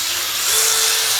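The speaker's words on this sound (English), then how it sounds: "I do this on low speed, we basically use the drill to lap that cup in and move it all around." A power drill running on low speed to lap a Classic Mini balljoint cup makes a steady, loud, high whine close by, with the pitch rising slightly partway through.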